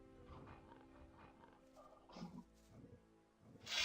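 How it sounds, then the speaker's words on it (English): Two wolves in Gothic 2 growl and snarl in short, rough bursts at moderate distance. A louder snarl rises at the end, with game ambience beneath and no talk. "Oh, wolves. Okay. 2 wolves."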